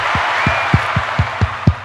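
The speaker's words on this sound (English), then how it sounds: "Give you a round of applause." Applause from a small audience at a talk on cryptids and wild places, with a handful of distinct claps standing out in a steady rhythm over a soft crowd wash, brief and moderately loud.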